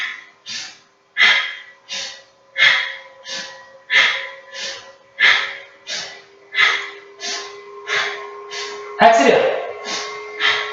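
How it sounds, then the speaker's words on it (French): Forceful rhythmic breathing during a vigorous guided exercise, about a dozen loud, sharp exhalations in a steady pulse, each followed by a brief pause, with a spoken instruction in the background. "Puissant, respiration puissante."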